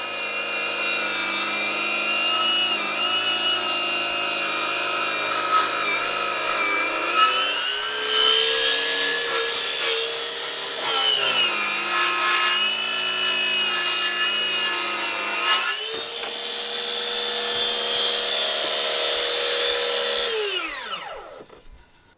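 A Ryobi 18V HP cordless table saw rips through wood with a loud, sustained whining cut whose pitch sags under load and recovers, running continuously before spinning down at the end.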